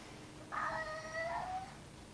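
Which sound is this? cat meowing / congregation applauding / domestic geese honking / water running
cat meowing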